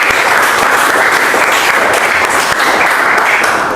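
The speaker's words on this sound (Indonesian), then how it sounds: "Oke, kasih aplaus dulu ya." Classroom applause in a continuous dense patter of many hands clapping together, steady and fairly loud throughout, without pauses or voices.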